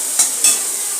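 Onion sautéing in a hot pan for pakoda gravy, a steady broadband sizzle with two brief stirring scrapes close by, no voices.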